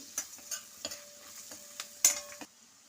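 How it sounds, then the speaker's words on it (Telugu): Onions frying in a pan with a spoonful of turmeric, with soft sizzling broken by repeated stirring scrapes and taps, quiet and close, stopping near the end. "ఉల్లిపాయలు ఇలా వేగిపోయాయి కదండి"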